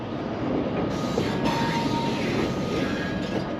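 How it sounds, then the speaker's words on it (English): Train moving around in a rail yard near a parked delivery truck, a continuous rumbling, clanking roll with a faint squeal, steady and moderately close, no talk. "Got the train here doing some stuff, moving around."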